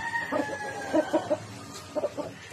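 A Blue Face Hatch gamefowl rooster gives short, clipped calls in small clusters of two and three, close and moderately loud against a quiet background.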